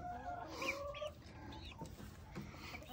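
Guinea fowl call on a farm with rapid, harsh clucking cries that repeat close by against a low background.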